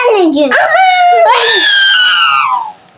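A dog in a Roblox video game whines and howls up close in long, wavering, high cries that rise and fall, loud and alone.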